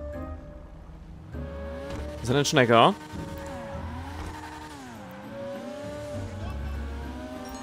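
Weeny Issi Rally car in GTA Online racing hard, with a steady engine drone that swells into a brief tire squeal and skid, while someone talks over it.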